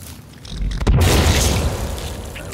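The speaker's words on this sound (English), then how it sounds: "I'm just going to use a grenade because I've got a couple of those. Let's blow this guy up." A grenade explodes in the survival game Sons of the Forest: one loud, deep boom with a sharp onset, then a rumbling debris tail that slowly fades, heard alone without talk.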